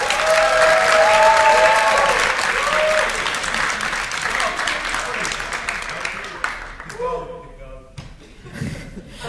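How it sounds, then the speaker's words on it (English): An audience claps through sustained applause at a debate event, loud and dense at first, then thinning into scattered claps and thumps as it dies away, with voices mixed in. "So applause for Iceland, please."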